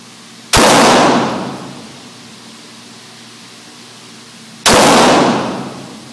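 Two sharp, loud blasts from a 31-shot firework cake, each a sudden crack that trails off into a long hissing wash, spaced about four seconds apart with a steady background hum between them.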